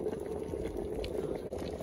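Maple sap boils hard in a kettle fitted with an automatic draw-off, a dense, continuous bubbling roar, close and steady with no voices.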